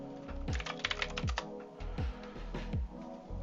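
Rapid keystrokes on a computer keyboard while entering tuning settings for an Alpine A110 racing game, an uneven run of close clicks and clatters with brief pauses, no talk.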